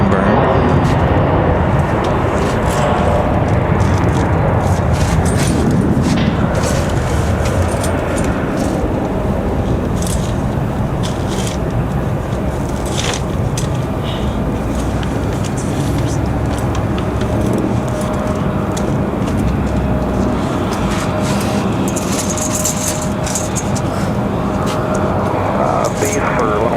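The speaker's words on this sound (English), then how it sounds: "Got an American Airlines 737 on the runway. Departing, that's what you guys are hearing now." An American Airlines Boeing 737 departs Raleigh-Durham International, a loud sustained jet roar heard from a spotting position nearby, with people talking throughout.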